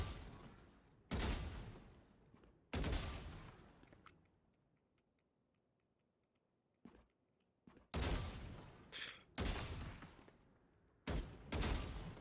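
Gunfire from a Valorant-style shooter aim warmup against bots, sharp loud shots in quick pairs and single bursts with brief quiet gaps and faint clicks between them.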